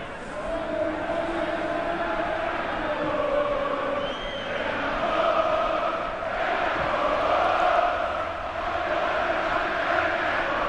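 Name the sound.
football stadium crowd cheering, Olympiakos Volou supporters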